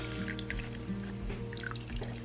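Cooked spinach wrapped in cheesecloth is wrung out by hand, water dripping and trickling steadily from the cloth, close and fairly quiet, with no talk over it.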